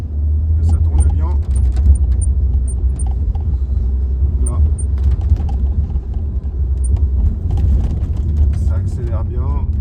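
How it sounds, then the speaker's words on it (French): Renault Captur 1.2 TCe 120 hp engine idling and revving up a little, a steady close rumble throughout with someone talking over it. "Je vais accélérer un petit peu, vérifier que ça tourne bien."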